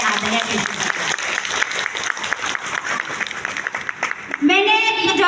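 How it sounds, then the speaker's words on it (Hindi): An audience at an LDP event in Dehradun breaks into dense applause, a steady wash of clapping running under and between spoken words, with a brief tonal sound near the end. "तालियां हो जाए आदरणीय प्रिंसिपल।"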